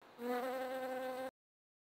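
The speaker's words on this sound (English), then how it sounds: "Bee." A bee buzzes alone for about a second, a close, steady droning hum with a strong pitched tone that starts abruptly and cuts off sharply into silence.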